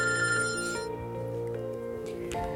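A telephone rings with a bright, electronic trilling tone in a telemedicine setting, the ring sounding clearly at first before trailing off into a quieter room.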